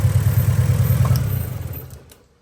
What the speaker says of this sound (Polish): Tylko jeden cylinder pracuje.